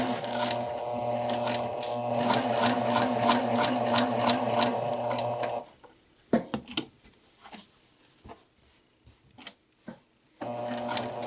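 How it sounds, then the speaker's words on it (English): A sewing machine stitches fabric around the curve of an inseam pocket, running in a loud rapid rhythmic whir, then stopping for quiet clicks and handling sounds before starting again briefly at the end. "I'm just going to take a few stitches, and if I see my fabric trying to bunch up on me, I'm going to stop my work, lower my needle"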